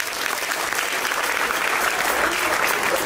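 Wedding guests at a civil marriage ceremony applaud loudly, a dense, even wash of many hands clapping with no break throughout.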